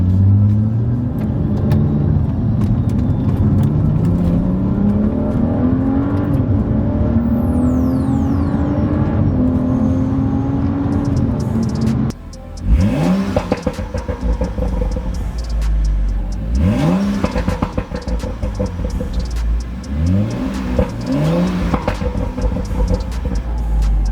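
A BMW F30 335i with the N55 engine, fitted with new NGK spark plugs and ELDOR ignition coils, revs loudly while driving, its note climbing steadily through the gears, then a short lull before several sharp rising revs; no voices.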